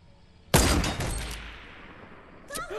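A loud gunshot bursts from a video game shooter with a sharp attack and a long echoing tail. A second shot follows near the end, with no voices.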